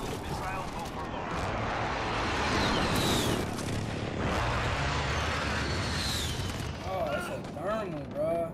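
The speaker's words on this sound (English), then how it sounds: "Friendly precision airstrike." Friendly precision airstrike in the Call of Duty Modern Warfare video game, a run of heavy rumbling explosions rolling over several seconds with jets sweeping past, while a person talks over it.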